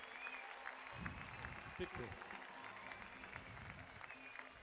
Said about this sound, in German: dieser Applaus ist für euch, den habt ihr verdient